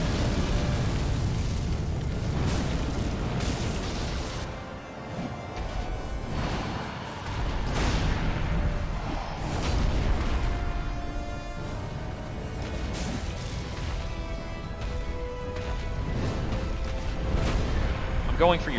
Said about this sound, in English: That's fire breath.